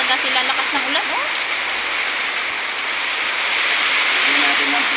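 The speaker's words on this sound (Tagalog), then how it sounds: "lakas ng ulan" Heavy rain pours in a steady, dense roar, loud and constant throughout, with faint voices under the downpour during a typhoon.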